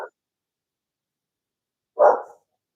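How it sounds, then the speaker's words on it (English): A dog in a hallway gives a single short bark after a stretch of silence, with a clipped sound cut off at the very start. "Another dog just came down the hallway."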